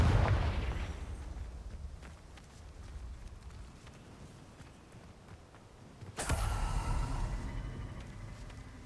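The Confringo explosive spell in Hogwarts Legacy goes off as a sudden loud blast late on, followed by a rumbling decay, after a stretch of quieter explosive rumble and ambient game noise.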